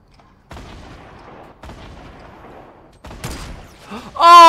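Gunfire in the Fortnite Battle Royale video game: three separate loud shots, each ringing out and fading, followed at the end by a brief burst of voice.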